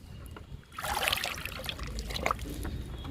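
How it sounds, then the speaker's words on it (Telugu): Liquid fertilizer poured from a container onto plants, a steady close trickle and splash that swells after a quiet start and runs on continuously. "ఇప్పుడు లిక్విడ్ ఇద్దాము."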